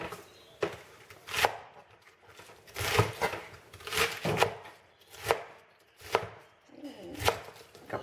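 A knife chops through cabbage in sharp, crisp strokes, about a dozen cuts in an uneven rhythm, close and clear with no talking.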